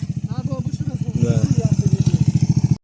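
A Loncin 150 motorcycle engine pulses in a steady rapid throb as a rider arrives at a jump spot, growing louder and nearer partway through, with people talking and calling out over it.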